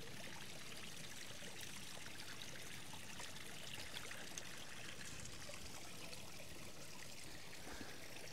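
Steady flow of water pouring out of a small creek source fed by a gravity off-grid water system, a continuous close trickling and splashing with no talk.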